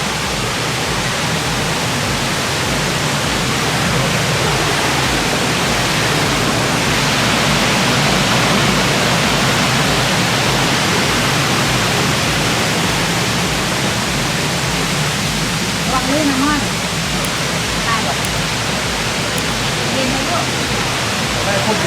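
Erawan waterfall in Thailand pours with a loud, unbroken broadband roar that fills the whole stretch, steady and close.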